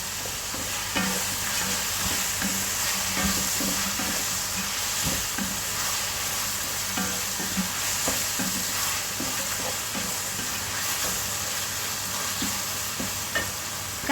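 Chicken biryani masala sizzles and fries in a pan while a spoon scrapes and stirs it in steady, repeated strokes, close and fairly loud with a constant hiss underneath and no talking.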